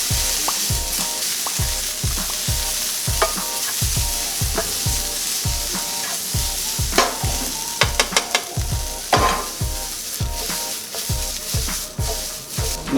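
Taco seasoning is stirred through sizzling food in a hot pan for taco rice, a loud close frying hiss punctuated by a steady rhythm of repeated thumping scrapes from the utensil, with a few sharper clinks later.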